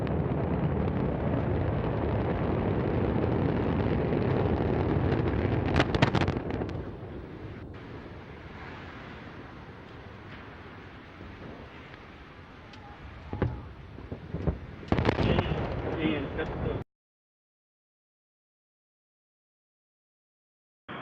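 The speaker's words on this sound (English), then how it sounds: "And we have liftoff of Antares" Antares rocket lifting off with Cygnus toward the ISS, a loud sustained low roar and rumble with wind buffeting and crackling bursts, easing to a steadier distant rumble before cutting off abruptly.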